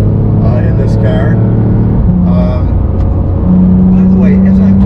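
Porsche 911 GT3 cruising through slower traffic, its engine a loud steady drone from inside the cabin with pitch shifts as it maneuvers, under continuous talking.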